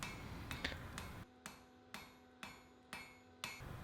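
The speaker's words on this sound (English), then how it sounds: "I was mainly hammering on the narrow end of the bevel" Steady single hammer blows ring on the bevel of a hand-forged Viking shipwright's axe blade, about one strike every half second, sharp metallic clangs with a faint hum between them and no talk.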